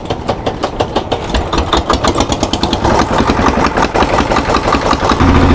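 A fishing boat's engine, on a hilsa trip on the Padma at the Chandpur river confluence, is started nearby and settles into a rapid, rhythmic thumping chug that grows louder and steadier.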